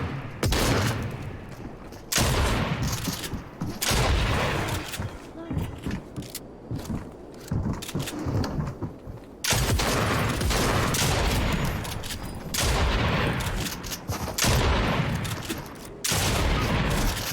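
Shotgun fire in a video game booms loudly and repeatedly in dense, overlapping blasts with mechanical clatter, while players talk excitedly over the gunfire.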